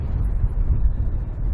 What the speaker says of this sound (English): it's still quite windy